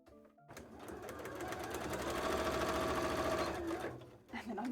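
Sewing machine stitching together fabric pieces of a cosplay tail, a steady close whirring run that starts after a brief pause and builds to a loud continuous hum before slowing at the end.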